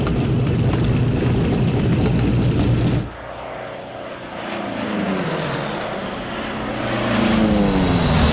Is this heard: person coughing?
no